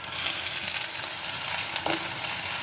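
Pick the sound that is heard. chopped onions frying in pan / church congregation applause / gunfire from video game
chopped onions frying in pan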